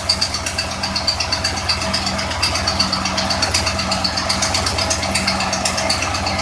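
A 1956 Ford F100 engine idles steadily while warming up, a close, even low-pitched chugging with a regular pulsing rhythm running throughout, no voices.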